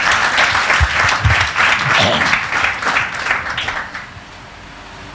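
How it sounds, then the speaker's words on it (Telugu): A church congregation claps loudly in a dense burst of applause that gradually thins and fades toward the end, with some voices mixed in. "గట్టిగా చప్పట్లు కొడదాం ఒకసారి."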